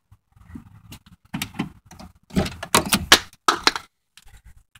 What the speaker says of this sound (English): Can you unlock my door for me